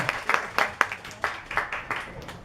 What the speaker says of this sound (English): A big round of applause for Tracy.